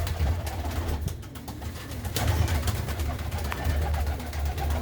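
Pigeons coo repeatedly in low, throaty rolls over a busy background of rustling and bird activity, fairly close.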